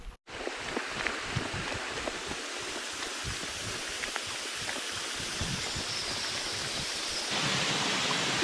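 A small waterfall in a New Zealand forest gives a steady, soft hiss of falling water that swells slightly toward the end, with no voices.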